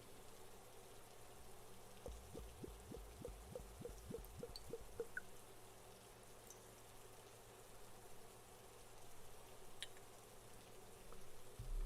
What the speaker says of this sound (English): So I'm just gonna pour some water in here.